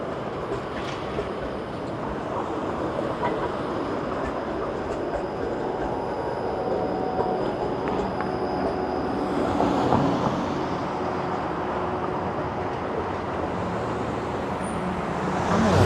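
Toronto 501 Queen streetcar on Adelaide Street, a steady rumbling rail roll with steel-wheel squeal amid city traffic, swelling briefly as it passes close, with no one speaking.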